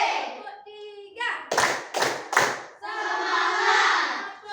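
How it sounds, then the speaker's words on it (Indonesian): Schoolchildren in an Indonesian classroom clap together in a quick rhythmic pattern, with sharp hand claps between bursts of group chanting and voices. "kita tepuk dulu anak-anak ya"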